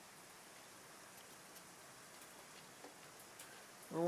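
Rain falls outside at night as a soft, even hiss with scattered faint drips and ticks, fairly distant and quiet, until a brief louder noise cuts in at the very end.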